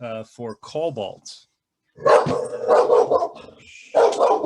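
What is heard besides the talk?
dog barking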